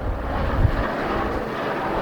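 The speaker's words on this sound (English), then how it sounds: "Helicopter flying by." A helicopter flies past a historic tug boat, a steady low rumbling drone with wind buffeting, moderately loud and constant throughout without any voices.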